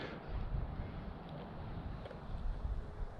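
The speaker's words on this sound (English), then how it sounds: "It's awful windy." Strong outdoor wind buffeting a microphone during a model aircraft flying session, a constant loud rumbling roar with gusty swells across the whole clip and no clear talking.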